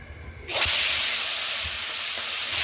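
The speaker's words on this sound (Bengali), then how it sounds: "প্রথমে চিংড়ি মাছগুলো হালকা করে ভেজে নেব।" A sudden loud hiss as salted, turmeric-coated prawns hit hot oil in a frying pan, bursting in at full strength then settling into a steady, close sizzle that holds to the end.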